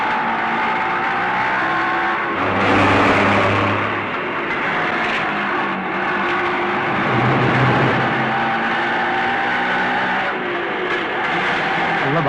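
A car drives along and accelerates, its engine rising and falling in pitch with swells of louder revving amid steady road noise, heard close and without talk.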